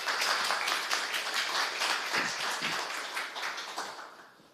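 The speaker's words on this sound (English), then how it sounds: "let's give him a round of applause" A conference audience at an Erlang talk claps for a speaker, a dense patter of many hands that holds steady and then tapers off toward the end.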